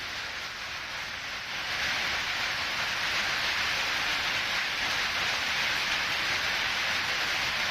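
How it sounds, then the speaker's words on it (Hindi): Sudden heavy rain with hail, a dense steady hiss that swells louder after the first moment and then holds constant, close and enveloping, with no voices. "इन इलाकों में अचानक तेज बारिश और ज़ालाबारी शुरू हुई"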